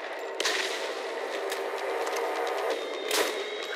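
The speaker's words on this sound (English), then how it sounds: "This is a good shotgun, too, because it shoots pretty fast, it reloads pretty fast," Shotgun blasts in Borderlands, a few sharp bursts spaced over several seconds amid a steady mechanical hum of game action, moderately loud.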